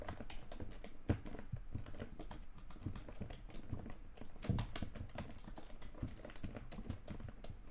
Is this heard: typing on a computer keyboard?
yes